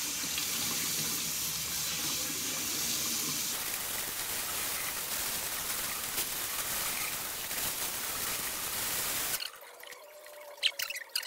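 Water from a tap runs hard while a tie-dyed towel is rinsed out in a sink, a loud steady splashing rush that cuts off near the end, leaving faint drips and small clunks.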